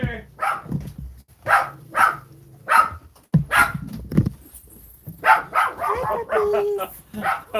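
Puppies barking and yipping in short bursts at close range, with a person talking over and between the barks outdoors.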